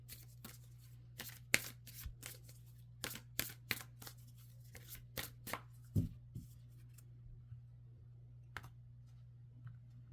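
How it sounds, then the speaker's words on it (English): Tarot cards are shuffled and pulled in a quiet room, giving a run of crisp riffling snaps and soft card slaps in irregular bursts over a steady low hum. "Let's go ahead and pull some more cards for you."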